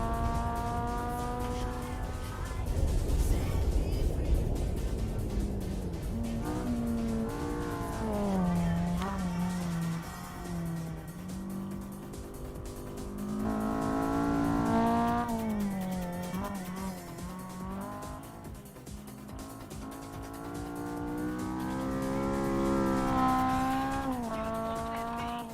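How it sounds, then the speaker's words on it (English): A Honda Civic EK9 drifts along the finish line with long, loud wavering tire squeals that rise and fall over its revving engine, sustained through the whole run. "that drift along the finish line there, which is absolutely wild"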